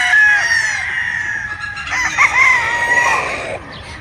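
A pea-comb gamecock rooster crows once, a loud, close, drawn-out call that rises and breaks near the end, over a faint background hiss.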